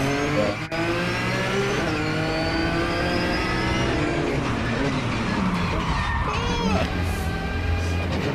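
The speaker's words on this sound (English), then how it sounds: "Good looking car coming up there." A race car climbs the Pikes Peak hill climb, its engine revving and accelerating loudly and continuously, with a crowd yelling faintly and people talking over it.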